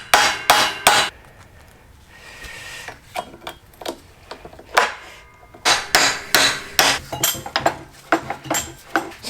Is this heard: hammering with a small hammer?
yes